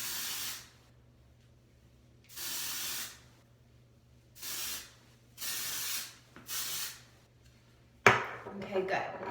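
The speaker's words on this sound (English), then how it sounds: "So we want to pick up the hair strand and spray into the hair." A spray bottle of hair product misted into hair strands: five separate hissing sprays of a second or so each with short pauses between, close and fairly soft, ending in a brief clatter of handling.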